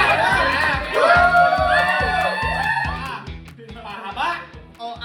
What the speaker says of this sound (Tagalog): palakpak natin!